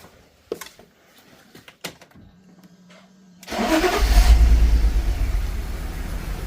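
BMW E46 convertible, a neglected barn find, cranks and fires up after a few faint clicks and a brief starter whir, then settles into a loud steady running engine close by.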